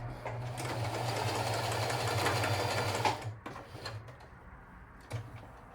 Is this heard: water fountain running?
no